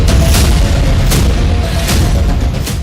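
Heavy blasts from a drone attack on Kyiv, several deep booms with sharp cracks spaced through a loud, continuous rumble with no voices.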